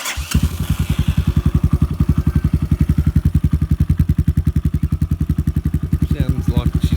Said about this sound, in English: I'll give you one more start up.